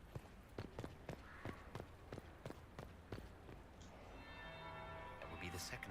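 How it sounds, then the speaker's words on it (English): A bell tolls repeatedly in Dragon Age: Inquisition, a game played on PlayStation 3. The strikes ring out at a steady, fairly regular rhythm and are moderately loud, with game ambience underneath and a brighter chime near the end. "That will be the second bell."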